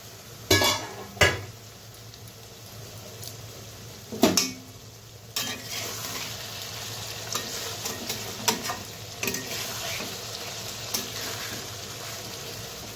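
A metal lid clanks off a pot of three-spined fish curry, followed by spoon scrapes and stirring against the pan over a soft, steady simmering sizzle, close and without talk.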